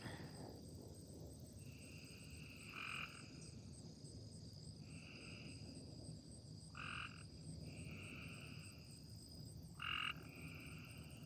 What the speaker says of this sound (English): All my frogs are very angry at me.